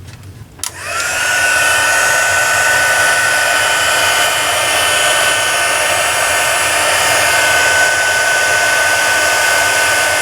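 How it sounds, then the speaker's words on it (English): A handheld heat gun used for craft card embossing switches on with a click and then blows a loud, steady whooshing roar that holds without a break, with no talking. "Okay, I'm going to turn the heat gun on again."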